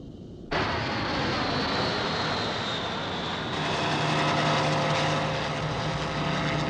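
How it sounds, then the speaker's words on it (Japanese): A loud helicopter engine roar kicks in abruptly and holds steady, a dense whirring drone with a slight rise in intensity partway through, from a 1982 anime. "ヘリを振り切るんだ。"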